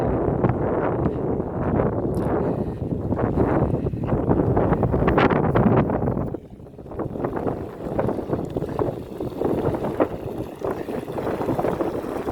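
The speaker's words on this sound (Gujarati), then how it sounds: "પવન બહુ છે." Strong wind buffets the microphone in rough, gusty roars that ease briefly partway through, then pick up again.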